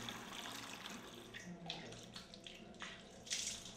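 Water runs and splashes steadily while a young boy is bathed and washed clean in Banda Aceh after the January 2005 tsunami, a close, continuous wash with brief brighter splashes.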